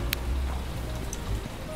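Steady rain falls in the video game Obenseuer, a continuous even patter and hiss with a few sharper drop clicks, heard alone throughout.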